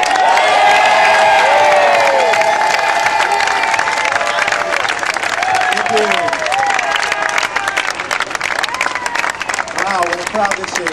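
A large crowd at a New York marriage rally cheers, whoops and applauds loudly and continuously, with shouting voices and a steady wash of clapping that stays strong throughout.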